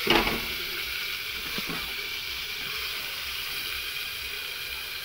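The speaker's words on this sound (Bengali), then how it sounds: "সবজিটা ভাজা হয়ে গেল" Vegetables frying in a covered pan give a steady, even sizzling hiss throughout, with a louder burst at the start and a few faint clinks early on.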